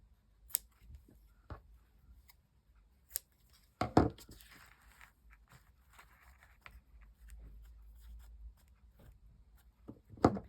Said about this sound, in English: I'll trim a little bit off of that,